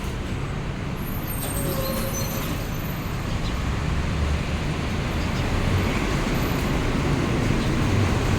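Pink Line electric elevated train at Wat Phra Si Mahathat station in Bangkok, a steady loud rumble and rolling roar that builds slightly toward the end, heard close and without talk.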